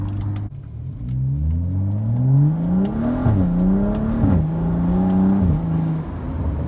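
A modified BMW F30 335i with the twin-scroll turbo N55 engine accelerates hard, its exhaust note climbing steadily through two quick gear shifts, loud and close with no talking.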